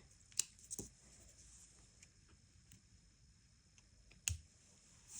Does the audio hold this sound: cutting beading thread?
yes